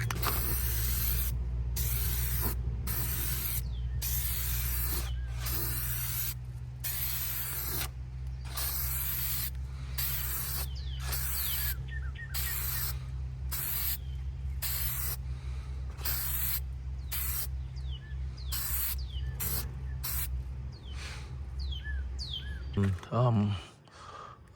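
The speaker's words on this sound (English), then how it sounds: "So I'm gonna apply the primer" Aerosol spray can applying primer to a car part, a loud, steady hiss broken into many short bursts with brief gaps, ending in a light clatter.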